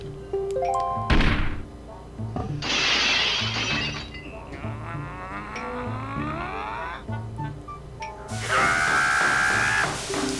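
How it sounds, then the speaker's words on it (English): A character in The Legend of Zelda: Wind Waker HD gives a short, sharp screech that rises above steady game music. A loud crash comes before it, and a bright, high squeal near the end could be the same cry again. "Every time he does his little screech right there"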